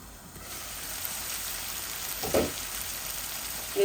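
Mirgal fish frying in hot oil with bottle gourd in a pan, giving a steady soft sizzle with a brief louder spattering hiss partway through and another at the end, with no voices.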